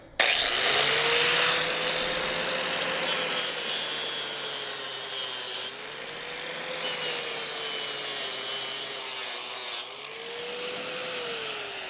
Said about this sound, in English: I'm just using for this a 36 grit flap disc, and it goes pretty fast